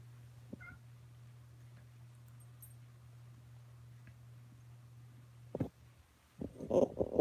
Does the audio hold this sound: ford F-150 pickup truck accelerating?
no